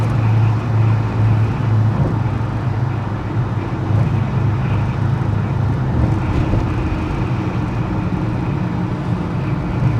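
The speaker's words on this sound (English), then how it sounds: "And the diff's got a little bit of a whine to it." Holden HK car driving along with a whining differential, a continuous low road and drivetrain drone with a faint steady whine layered over the rumble, no voices.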